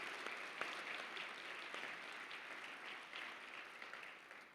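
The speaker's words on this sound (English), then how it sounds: "So let's give them a round of applause as well" An audience at a charity breakfast event applauds its sponsors, a dense, even wash of many hands clapping together that holds steady for several seconds and tapers slightly at the end, heard from a short distance with no speech.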